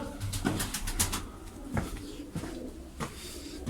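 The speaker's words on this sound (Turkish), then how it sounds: "o kuşları göstereyim size arkadaşlar" Hand-raised pet birds coo softly and repeatedly at night, with a few faint flutters mixed in. The calls are steady and close, and there is no talking.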